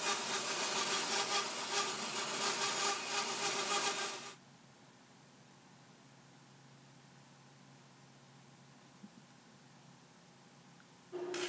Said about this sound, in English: take it over to the bandsaw, and I rough it out to a 12-inch diameter